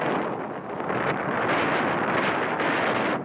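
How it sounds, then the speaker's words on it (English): Strong wind buffeting the microphone while riding a Vilano Pulse e-bike, a loud, steady roaring rush that swells slightly and holds throughout, with no talking. "It is very windy."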